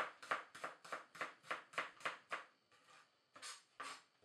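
A knife slices a shallot into thin slivers on a board: a quick, even run of crisp chopping taps, close and fairly quiet, with a short pause before a few final cuts.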